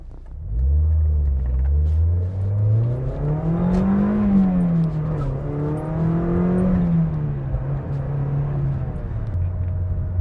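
A Mazda Miata NC fitted with a Goodwin header and muffler exhaust hums along with a deep, smooth engine note that rises through a rev, dips, climbs again and eases off, heard fairly close with no voices.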